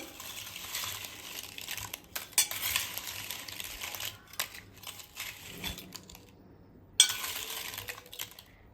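Spiced kurkure snack being mixed with clove powder in a bowl: a steady dry rustle and scrape of crunchy pieces being tossed, with a few sharp clicks, close and continuous.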